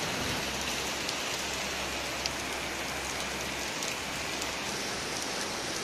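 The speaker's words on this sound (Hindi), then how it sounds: "यहाँ पे काफी मूसलाधार बारिश हो रही है" Heavy monsoon-style downpour pours continuously, a dense, steady hiss of drops striking surfaces with no letup.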